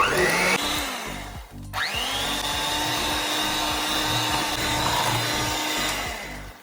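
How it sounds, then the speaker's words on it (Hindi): An electric beater whirs steadily through orange cake batter, a loud continuous motor drone with a brief dip partway through and irregular low knocking as the beaters hit the bowl. "अब इसके अंदर थोड़ा सा हम बीट करेंगे ज़्यादा।"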